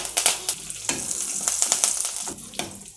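Steady crackling sizzle of mustard seeds popping in hot coconut oil, with sharp spitting bursts throughout; close and fairly loud, no talking.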